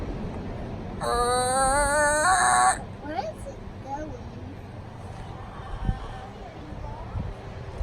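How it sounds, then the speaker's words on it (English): A chicken crows once under a bridge by a river, a bright, drawn-out call of almost two seconds near the start. Quiet outdoor ambience and faint voices follow. "There's a chicken under the bridge down by the river."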